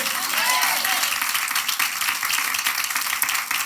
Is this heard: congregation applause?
yes